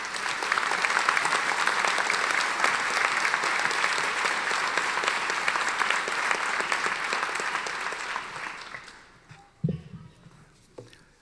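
Sustained audience applause welcoming Judge Michael J. Malloy at a law school commencement, a dense steady clapping that fills the hall for about eight seconds before thinning out into a few scattered claps and small thumps.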